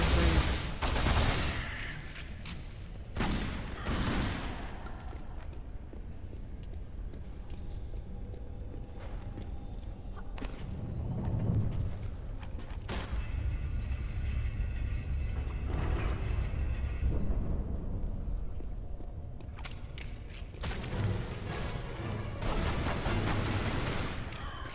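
Bursts of gunfire ring out in the Tomb Raider Anniversary video game on the Lost Island level, with loud rapid volleys repeating over a dense, rumbling game soundtrack across the whole stretch.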